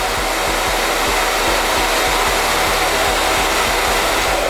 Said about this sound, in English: I get a blow dryer and I just